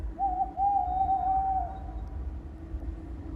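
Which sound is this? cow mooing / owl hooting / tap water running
owl hooting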